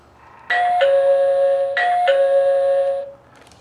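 A GE/Jasco wireless doorbell sounds its regular bell, a close, loud two-tone ding-dong played twice in a row and then fading out.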